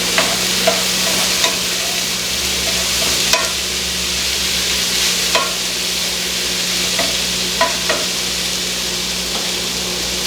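A spoon scrapes and stirs a thick casserole in a pot on a hot stove, each stroke a soft scuff over a steady sizzle and background hiss, with light knocks against the pot at uneven intervals.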